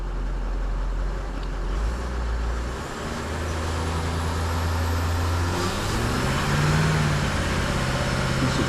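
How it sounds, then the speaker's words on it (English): A Range Rover with a rough-running fault cranks and fires up, its engine settling into a loud, steady, close-up idle with a low rumbling drone that carries on without a break. "Let's just start the vehicle."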